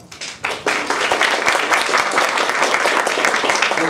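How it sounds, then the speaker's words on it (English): An audience at a public-speaking contest in Moscow claps for a speaker, starting with a few scattered claps and quickly filling into sustained, dense applause from a roomful of people that holds steady to the end. "Give another round of applause for our speaker."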